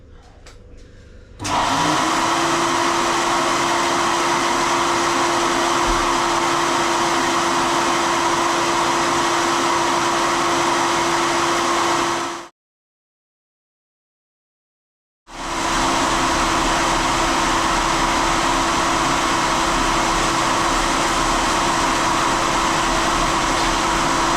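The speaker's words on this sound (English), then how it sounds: "God, that compressor is really noisy" A noisy air compressor in a workshop runs with a loud, steady droning hum, cuts out abruptly for a few seconds of silence, then starts up again and keeps running at the same level.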